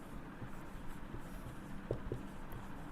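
A marker scratches and taps on a board during a trading lesson, a faint and steady sound with a few small distinct strokes over a constant background hiss.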